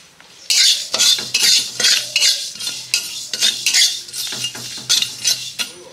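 Nigella seeds dropped into a hot wok, followed by a steady run of metallic scraping and clinking as a spatula works the pan, close and loud, with no voices.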